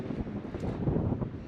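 Steady low rumbling wind buffeting a microphone outdoors, broadband and continuous with no voices.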